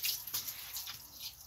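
Water splashing onto a kitchen floor during washing, a quiet hissing wash of liquid with a couple of soft surges, heard close and alone.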